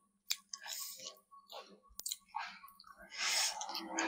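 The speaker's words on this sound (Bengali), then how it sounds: "এই যে গিলে খাচ্ছি, একেবারে এক গালে চাবিয়ে।" Chewing country chicken meat, close-up wet mouth sounds with clicks and soft crunches in irregular bursts, fairly quiet and alone.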